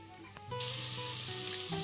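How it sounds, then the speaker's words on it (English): Red onions sizzle in a pan while cooking for a beef stew, a close, steady frying hiss with a few soft clinks and a stir partway through, no voice over it. "I am now frying my onions."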